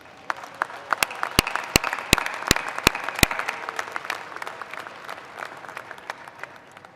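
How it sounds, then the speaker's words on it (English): Clapping and cheering from the crowd in the stands at a college commencement ceremony, with several sharp, loud claps close by over a dense wash of applause. "Take a look up into the stands and find those that are here for you and clap and cheer for"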